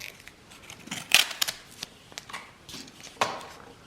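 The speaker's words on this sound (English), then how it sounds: "all I'm doing is cutting pieces from the short length of the sandpaper" Scissors cutting silicon carbide sandpaper into strips, a handful of sharp close snips and crisp rustles, quiet and spaced out with no talking.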